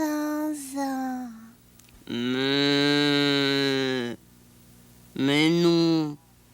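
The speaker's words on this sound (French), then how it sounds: "Mais non, je suis une vache." A cow moos in an animated children's show, giving a short call, then a long sustained low moo of about two seconds, then a final shorter moo, each loud and close against a quiet background.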